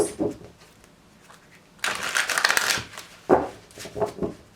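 Tarot cards being shuffled in a few distinct bursts, one long riffle followed by shorter flicks, close up with no speech.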